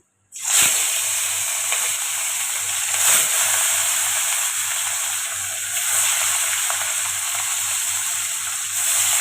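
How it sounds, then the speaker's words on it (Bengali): Fish frying one piece at a time in hot oil in a kadai, a loud, even sizzle and hiss that starts abruptly and carries on steadily, no voices over it. "তেল গরম হয়ে গেছে, মাছগুলো আমি ভেজে নিই এক এক করে"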